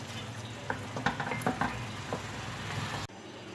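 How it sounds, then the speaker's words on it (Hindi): Mutton stew with ginger being mixed in a pot, a low simmering hiss under scattered clinks and scrapes of a spoon against the pot, ending abruptly. "अदरक डाल दूंगी इसमें और इसे अच्छी तरह मिक्स करने के बाद इसे 10 मिनट के लिए हल्की आंच पे दम दे देंगे।"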